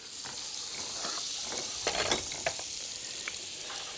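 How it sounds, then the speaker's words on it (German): Butter sizzling in a pan of sunflower and olive oil, a steady close hiss with a few brief crackles and faint spatter pops, no voices. "Ich tue auch noch Butter dazu ein bisschen."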